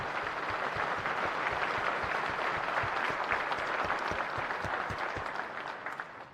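Commencement audience clapping in a large crowd, a dense steady wash of many hands that holds level throughout and tapers slightly toward the end, with no voices over it.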